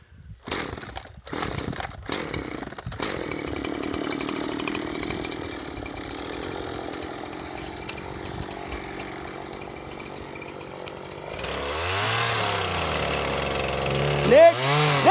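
A chainsaw runs loud and close throughout, its engine rising sharply in revving surges near the end, with a few knocks and clatters at the start.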